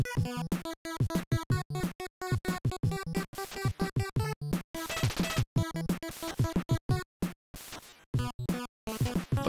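NES video game music that sounds broken, with choppy chiptune notes stuttering and cutting out in uneven bursts and brief gaps, loud and continuous with no talking over it.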